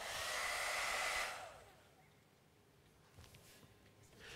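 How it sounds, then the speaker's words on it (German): A hair dryer blows with a steady, loud airy roar for about a second and a half, then cuts off, leaving faint room noise and a few soft taps before the airflow starts rising again. "Dieser Föhn generiert in diesem Fall den Zufall über sein akustisches Rauschen"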